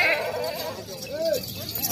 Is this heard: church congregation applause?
no